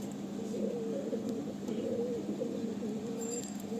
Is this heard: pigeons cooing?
yes